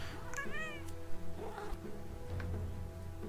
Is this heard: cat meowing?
yes